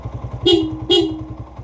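Two short horn beeps from a small motorcycle, each with a second tone that trails on, over a steady idling engine rumble close by.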